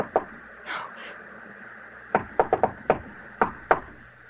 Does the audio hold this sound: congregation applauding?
no